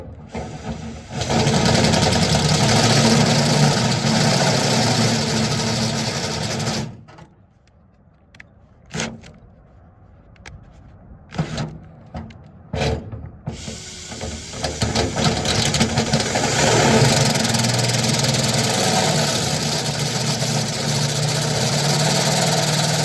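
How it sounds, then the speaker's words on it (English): Step bit drilling through a Traeger 1300 smoker grill, loud steady grinding whine that stops midway for a stretch of scattered bursts and scrapes, then resumes continuously. "Here's a little bit of the stepper bit work."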